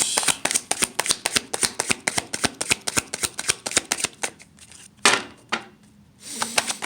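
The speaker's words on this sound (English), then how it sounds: "Okay, universe, we need another card for Debbie Wasserman Schultz" Tarot cards being shuffled by hand, a rapid train of crisp riffling snaps for about four seconds, then a short pause before a few louder slaps and a final burst of shuffling, close and alone.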